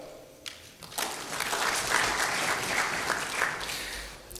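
An audience at a health sector review meeting breaks into applause, a brief quieter start giving way to sustained, full clapping from many people that stays steady to the end.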